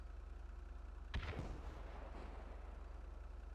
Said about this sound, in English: It's a fucking rocket launcher.